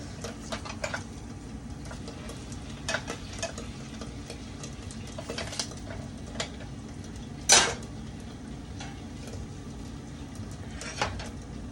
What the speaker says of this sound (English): Let me go ahead and flip these eggs